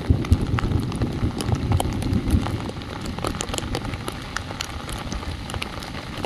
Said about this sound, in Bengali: বৃষ্টি হচ্ছে এত জোরে